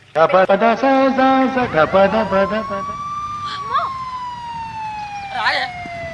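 An ambulance siren wails in a long, steady rising and falling tone on a road and carries on alone after a voice talks loudly at the start.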